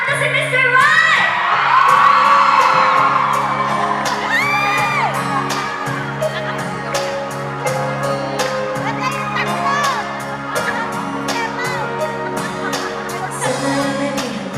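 A lively crowd at a fan date event in Singapore cheers, whoops and shouts continuously and loudly, with high excited voices rising over music throughout.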